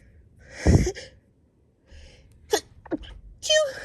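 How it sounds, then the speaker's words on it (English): A single sharp sneeze bursts out near the start, then a pause followed by a few quick breaths and short vocal sounds. "Sorry you guys, I sneezed"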